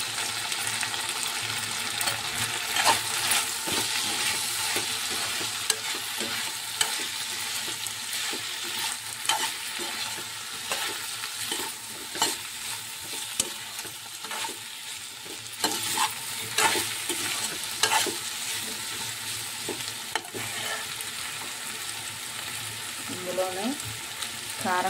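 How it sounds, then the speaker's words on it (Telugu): Turmeric, salt and spices being stirred in a hot pan, with a continuous frying sizzle and repeated scraping strokes of the spoon, close and fairly loud, with no speech over it. "మళ్ళీ అంతా ఒకసారి కలుపుకొని"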